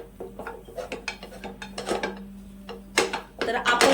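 Mawa mixed with cardamom powder in a pan, with a metal spoon repeatedly scraping and clinking against the pan in an uneven rhythm, close and fairly quiet, growing busier toward the end.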